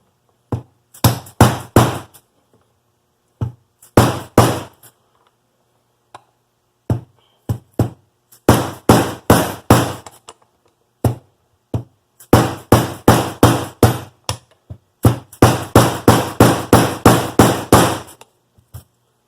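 Loud, sharp metallic hammer strikes driving a piston pin out during a Honda F23 engine rebuild, in repeated bursts of several quick blows, with short pauses between volleys.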